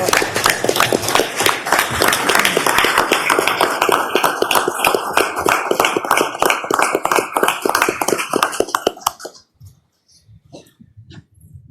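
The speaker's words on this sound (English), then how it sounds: "Let's give him a round of applause." Applause at a board of education meeting: a dense, steady burst of clapping from a room of attendees, loud and sustained for about nine seconds before cutting off into near silence.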